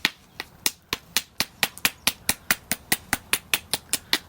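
Flint is knapped with a hammerstone and an antler. About eighteen sharp, close, crisp knocks land at a quick, even rhythm with no talking.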